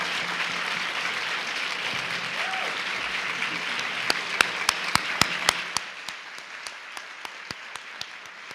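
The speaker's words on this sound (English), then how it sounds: "give a rounding applause to those who have made this day possible for you" Audience applause at a college nursing commencement ceremony, steady dense clapping filling a large hall, then thinning into scattered individual claps.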